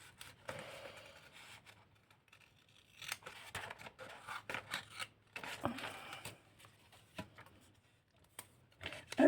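Scissors cutting paper for a picnic-themed ATC craft card, a close run of soft snipping and crisp slicing strokes in irregular bursts with paper rustling between cuts, fairly quiet overall.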